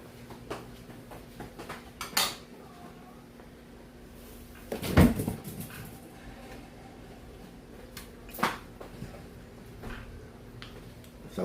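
Kitchen cookware being handled: a kawali frying pan and dishes clank and knock in a few sharp, separate impacts, one louder clunk in the middle, over a quiet room hum.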